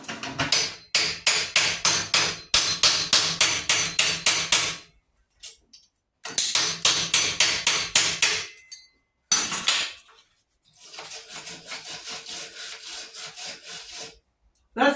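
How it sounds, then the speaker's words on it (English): Rapid hammer blows on a stick-welded metal joint ring out in fast bursts, sharp metallic strikes repeated many times, separated by brief pauses, close and loud. "Let me get a real hammer out here"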